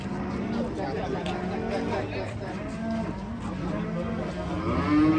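Thin cattle moo several times at a livestock weighing spot, the low calls mixing with people talking nearby and a busy background.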